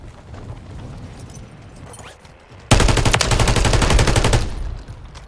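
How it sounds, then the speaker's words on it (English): Rapid automatic gunfire in Warzone 3, with a loud burst of machine-gun shots erupting suddenly after quieter ambient game noise and hammering away for nearly two seconds before it cuts off. "Who the hell was shooting me?"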